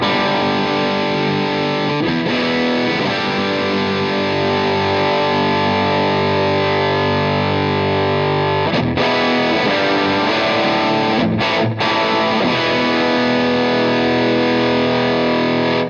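Electric guitar played through a small transistor mini amp with its mid-range control being adjusted, a distorted, sustained chord-driven tone with a couple of brief breaks and no talking.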